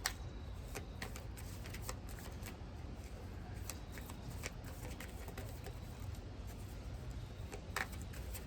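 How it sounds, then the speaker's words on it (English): A deck of tarot cards is shuffled by hand in a quiet room, giving steady soft riffling and flicking with light irregular snaps across the whole stretch and no talk. "I'm actually going to shuffle that again because that was like half the deck that flew out of my hands"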